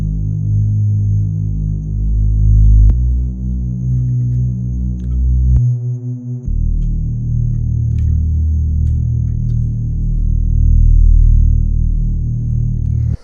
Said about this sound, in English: Then we have the bass line.